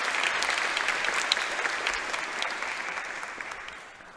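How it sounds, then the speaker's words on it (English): Audience applause for retiring college faculty and staff at an awards ceremony, a steady wash of clapping that holds for several seconds and slowly tapers, with no voices over it. "Please join me in a round of applause to honor these retirees."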